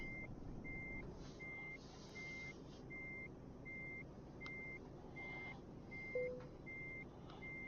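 A truck in the Euro Truck Simulator 2 video game gives a steady run of about a dozen evenly spaced reversing beeps over a low, constant engine drone, with no talking.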